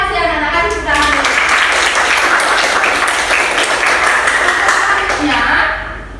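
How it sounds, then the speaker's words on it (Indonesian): Schoolchildren in a classroom clap together loudly and close by, a dense burst of applause lasting a few seconds with voices mixed in, then fading. "Kasih tepuk tangan dulu."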